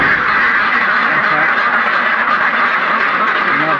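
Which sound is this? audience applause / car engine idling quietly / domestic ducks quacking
domestic ducks quacking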